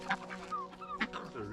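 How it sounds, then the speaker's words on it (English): A rooster on a small farm gives a few soft clucks and short throaty calls, faint and close, over a quiet outdoor background. "It's a rooster."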